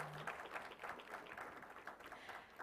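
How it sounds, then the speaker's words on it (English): Audience applause at a plant-based foods summit in India: a steady wash of clapping from a crowd, fairly even throughout with no speech on top. "I think we can hear a big round of applause for them"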